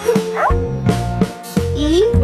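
A dog gives a run of close, loud barks and yips, about five sharp woofs in quick succession, ending in a rising whine, with no talking.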